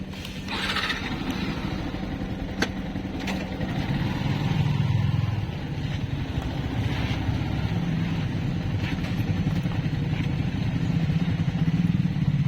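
A Yamaha R15M motorcycle engine runs steadily with a low rumble, rising slightly at moments, with faint background noise and no talking.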